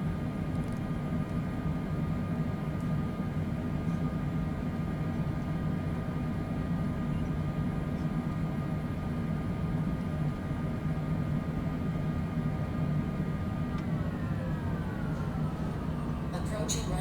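A Cessna's engine drones steadily at a low pitch while taxiing toward runway 22 left at Chicago Midway in snow showers at dusk, a constant hum with a faint tone shift near the end.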